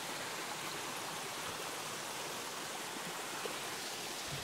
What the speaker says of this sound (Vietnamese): Mưa thì còn đang mưa phùn phùn một chút này cô bác này